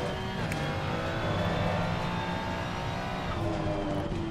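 A race car engine in the racing game Assetto Corsa Competizione drones continuously at high revs, its steady tone shifting slightly in pitch as the car drives on, loud and without talking.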